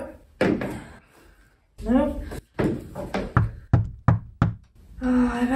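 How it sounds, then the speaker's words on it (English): Knocking on a door in a home, several sharp raps in quick succession, up close and loud, with a person talking before and after the knocks. "Oh, I better go see who's at the door."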